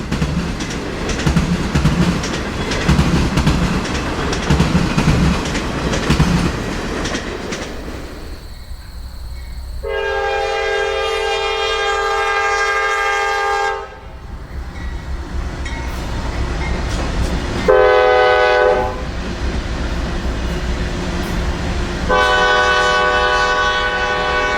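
Norfolk Southern freight train NS 26C rolling past with rumbling wheels and a loud, repeated horn blaring in several long blasts, close and dominant throughout.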